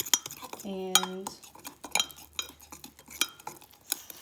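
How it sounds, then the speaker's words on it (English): Brownie batter being whisked in a bowl for a microwave brownie, uneven clinks and scrapes of the whisk against the bowl, close and fairly quiet, with a brief ringing tap and a few words of speech. "Whisk briskly until batter is smooth, making sure to break up any cocoa"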